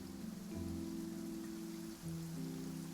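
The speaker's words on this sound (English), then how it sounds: "It's raining." Steady rain falls in Genshin Impact, a soft continuous patter with a low tonal music bed running beneath it and no voices.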